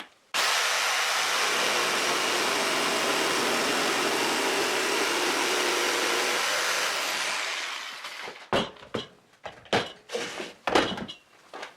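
Jigsaw crosscutting a board of wood, guided by a bearing jig pushed along a guide strip: a loud, steady motor whine and blade buzz runs for about eight seconds, then fades into a string of short knocks and handling clatter.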